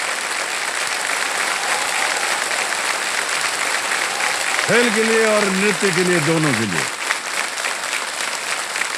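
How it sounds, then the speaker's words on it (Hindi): Studio audience at a Kaun Banega Crorepati quiz show applauds a contestant taking the hot seat, a steady dense roar of clapping that fills the whole stretch while someone talks over it. "वाह, और जोरदार तालियां बज जाए इनके"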